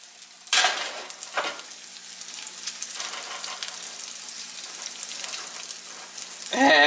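Sausages frying in a pan give a steady, close crackling sizzle, with bursts of stirring and scraping at the start and a louder clatter at the end.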